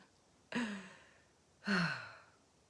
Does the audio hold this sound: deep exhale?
yes